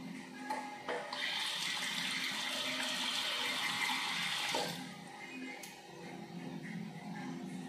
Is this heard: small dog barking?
no